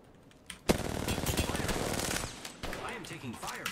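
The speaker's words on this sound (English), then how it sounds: "I am taking fire, friends." Rapid gunfire in Apex Legends during a Season 7 match on Olympus, loud bursts of automatic weapon fire packed together for a couple of seconds, then scattered shots and game effects trailing off.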